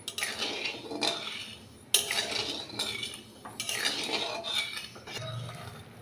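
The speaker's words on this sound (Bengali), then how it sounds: "এবার এটাকে নাড়াচাড়া করবো, রসটা ফুটিয়ে নেব।" Sugar syrup with cracked cardamom pods stirred in a pan for balushahi, a metal spoon scraping and clinking in repeated strokes over a faint bubbling simmer, close and clear.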